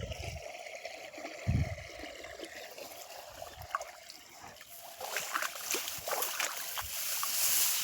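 Irrigation water flowing along field channels into a wheat field, a steady outdoor trickle and gurgle with occasional low thumps, growing a little louder toward the end.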